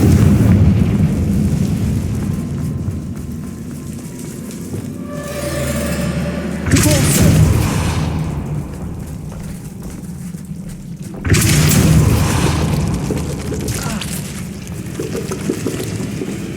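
Spell explosions from Bombarda and Confringo in the video game Hogwarts Legacy: heavy booming blasts and thuds. A sharp burst lands near six seconds and another near eleven, over a continuous rumbling battle bed.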